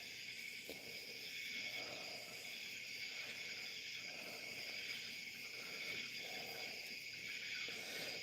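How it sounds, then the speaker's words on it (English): Crickets chirp steadily through a quiet night, a continuous high insect trill running without pause and without any talk. "I can really hear the crickly crickets now."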